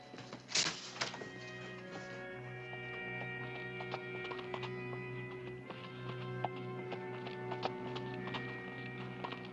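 A horse carrying a rider approaches, hooves clip-clopping in a steady, fairly faint rhythm after a brief thump near the start, heard alone with no talk over it.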